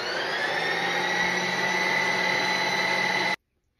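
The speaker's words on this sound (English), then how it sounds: "I'm going to hit the respin button." A Ninja Creami ice cream maker respins vegan ice cream with a loud, steady high-pitched motor whir that holds constant for a few seconds and then cuts off abruptly into silence.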